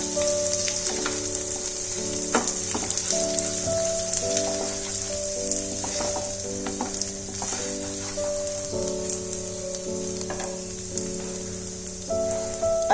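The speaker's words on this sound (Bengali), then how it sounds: "কাঁচা লঙ্কাটা যতক্ষণ হালকা সটে হচ্ছে" Green chili sautéing in hot oil in a pan, a constant close crackling sizzle with scattered pops, set against sustained musical tones throughout.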